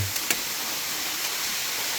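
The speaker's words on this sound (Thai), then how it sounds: "น้ำตกห้วยแห้ง ของอำเภอศรีสวัสดิ์ จังหวัดกาญจนบุรี" Huay Haeng waterfall in the forest near Ban Samaekae, Si Sawat district, Kanchanaburi, pours as a steady, even rush of water, a constant wash of noise with a couple of faint knocks near the start.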